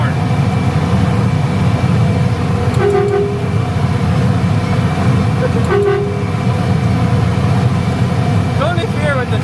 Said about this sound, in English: start blowing the air horn